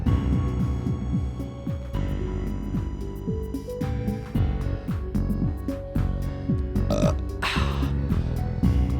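A long, drawn-out burp rumbles at close range for several seconds, low and gravelly, with loose bursts and a louder push near the end, apparently taking place in a casual podcast-style chat setting.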